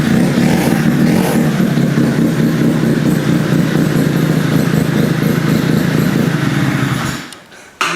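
A rotary-engine-swapped Honda QA50 minibike runs close by with a steady, loud buzzing drone before dropping off sharply at the end.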